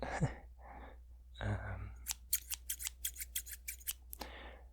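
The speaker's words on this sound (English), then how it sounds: "It's just a cheapo pair of scissors" A rapid run of sharp snipping clicks from a cheap pair of scissors, about a dozen quick cuts in a row, close up, after some soft breathy sounds.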